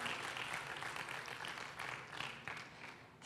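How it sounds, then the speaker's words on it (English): A launch-event audience at the Realme 3 phone unveiling in Malaysia claps in sustained applause, a fairly faint, steady patter of many hands in a large room. "I think we do deserve a clap for this"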